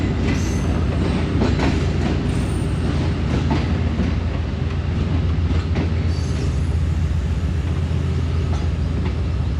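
The Pak Business Express rolls at high speed along the loop line into platform 1 of Sahiwal railway station, a loud, close rumble of wheels with rhythmic rail clatter and occasional squeals, continuous and unbroken by speech.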